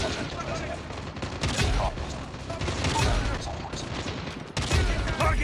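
Rapid gunfire from the Call of Duty Mobile shooter game, dense repeated shots and booms running throughout at close range, with a voice speaking over the battle.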